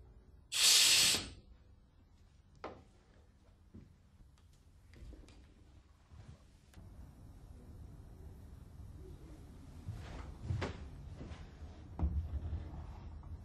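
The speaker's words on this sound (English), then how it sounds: "Supply compressed air to the actuator and open and close the valve a few times" An LKB butterfly valve's compressed-air actuator gives one sharp, loud hiss of released air, followed by quieter clicks and thumps as the valve opens and closes several times, all close by and without speech.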